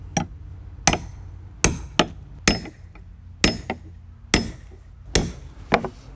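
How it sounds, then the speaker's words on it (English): A hammer strikes the back of a metal nail puller set against a nail head in a wooden deck board, giving about nine sharp, close metallic knocks at an uneven pace. "strike the back of the nail puller with a hammer"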